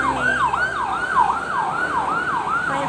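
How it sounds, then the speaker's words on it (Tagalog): An ambulance siren wails in fast repeated sweeps on a highway after an earthquake, loud and fairly close, cycling steadily over low road noise. "May ambulansya."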